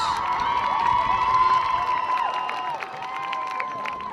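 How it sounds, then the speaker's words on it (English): Crowd cheering and applauding for homecoming candidates at a high school football game, with high shouts, whoops and children's voices over scattered clapping from the stands, loud and sustained throughout. "how about one big round of applause for your homecoming candidates?"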